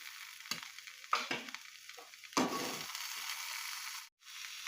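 Tomatoes tipped into a pan of boiled vegetables frying for a breakfast dish, giving a few sharp sizzling bursts and stirring scrapes, close and fairly quiet, with a steady fry hiss between them.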